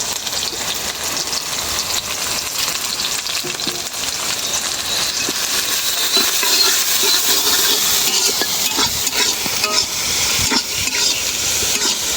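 Onion, green chili and raw garlic frying in hot oil, a loud, steady sizzle and hiss that fills the whole stretch, with faint stirring scrapes and no voice.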